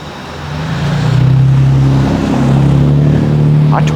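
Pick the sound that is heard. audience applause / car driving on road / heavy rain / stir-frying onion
car driving on road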